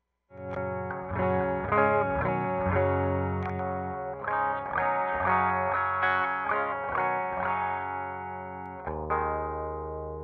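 A clean-toned electric guitar is played through a pedal comparator with a Boss OD-3 and Boss OS-2 switched off, giving a series of ringing chords and single notes with light ambience and no talking.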